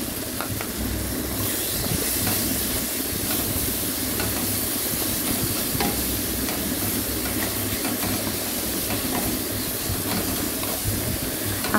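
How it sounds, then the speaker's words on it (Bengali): Ginger garlic paste frying with onion and tomato in a pan, a loud, continuous close sizzle with stirring scrapes running throughout, and no voices. "আদা রসুনটা একটু আর কিছুক্ষণ মতো একটু কষিয়ে নেব"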